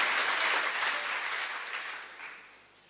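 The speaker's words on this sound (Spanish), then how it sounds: "Denle un fuerte aplauso al Señor" Congregation applauding at a Spanish-language church service, a dense wash of clapping that starts loud and slowly fades over a few seconds.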